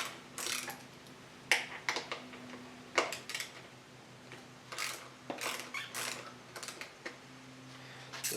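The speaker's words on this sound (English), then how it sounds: "removing the seat is real easy. Just two bolts." Hand tool removing the two size 6 seat bolts on a 2021 Kawasaki Ninja 1000SX motorcycle, a series of soft close ratcheting clicks and taps at irregular intervals, faint and without talk.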